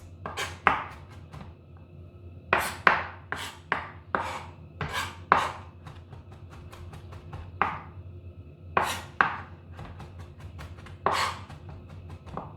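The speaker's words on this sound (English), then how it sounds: "So and then you chop it again this way." French beans being chopped with a kitchen knife on a board, a brisk series of sharp, close knocks coming in uneven bursts of two to four strokes with short pauses, no talk over them.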